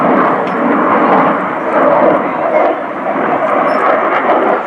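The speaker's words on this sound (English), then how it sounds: "Acceleration and takeoff there." A Swedish Air Force JAS-39 Gripen fighter jet accelerates down the runway and takes off at the RIAT 2018 airshow, producing a loud, sustained engine roar that stays powerful throughout.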